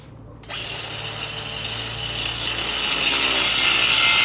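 A power tool cuts a hollow metal tube nearby. The high, hissing grind starts abruptly after a brief quiet moment and builds steadily louder to the end.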